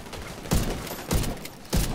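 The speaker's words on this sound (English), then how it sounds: "Someone shooting you?" Gunfire in The Division 2 video game: three heavy, thumping shots spaced roughly half a second apart, fairly close and loud against a low background hiss, with no one talking.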